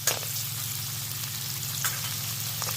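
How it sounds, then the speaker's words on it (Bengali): Onions frying in oil in a pan, left over from frying cauliflower: a steady close sizzle with a soft stir or two over it and no talk. "এই এক বাটির মতো পেঁয়াজ ভেজে নিচ্ছি।"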